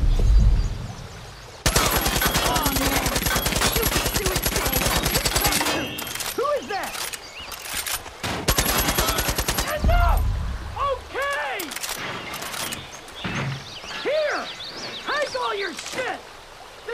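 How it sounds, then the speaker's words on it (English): Far Cry 5 gunfire: two long dense bursts of rapid automatic fire, loud and close, separated by gaps, with people talking throughout the quieter stretches. "Shoot a couple holes in his stuff, scare the shit out of him."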